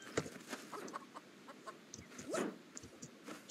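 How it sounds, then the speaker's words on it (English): A flock of chickens clucks at a ranch in the game Super Animal Royale. Short, scattered clucks and squawks keep coming in an irregular stream, with one louder burst partway through. "They just have a lot of chickens at this ranch"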